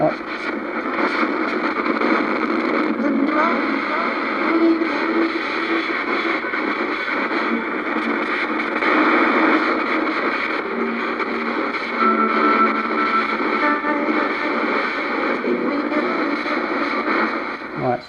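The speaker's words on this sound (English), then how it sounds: "Right, so that's the FM sweep." A servo-driven ghost box sweeps across the FM band with its echo effect turned all the way up, producing a continuous, loud wash of choppy static and broken radio fragments that never pauses for about eighteen seconds.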